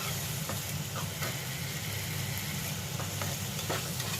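Ginger paste frying in a hot pan, a continuous close sizzle broken by several soft scraping stirs of a spoon, no voices present.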